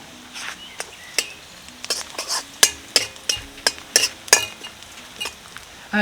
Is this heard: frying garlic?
yes